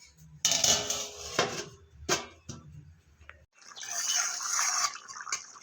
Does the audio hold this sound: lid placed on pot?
yes